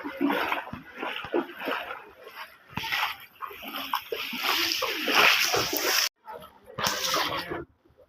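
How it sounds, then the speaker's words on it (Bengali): Fish splash in shallow floodwater around a flooded village, with irregular, close splashes and brief quiet gaps, and faint voices and animal whimpers mixed in. "মাছের খেলা দেখুন"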